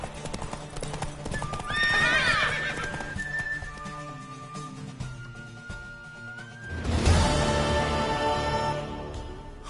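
A horse whinnies loudly, then hooves clip-clop steadily, followed by a second long neigh over continuing galloping and background game music, from a PS4 video game.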